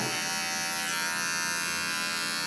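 Electric clippers trim the fur around the tail and rear of a poodle, giving a steady, close, continuous buzz with no talking.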